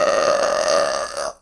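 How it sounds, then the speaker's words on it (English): A single long, loud human burp rumbles steadily for over a second before cutting off abruptly, alone with no talk around it. "I'm so sorry. I burped."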